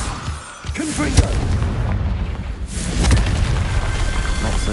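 In Hogwarts Legacy, a Confringo blasting spell lands as a loud explosion that keeps booming and rumbling, with a sharp crack early on. A voice briefly sounds over the continuous din.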